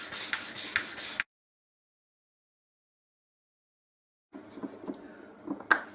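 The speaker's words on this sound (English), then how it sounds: "I'm just giving it a sand with some 500 grade paper" Hand sanding a Guyatone LG50 guitar body with thin veneer and ABS binding using 500 grade sandpaper, soft rhythmic rubbing strokes close by, broken by a few seconds of silence before the sanding resumes.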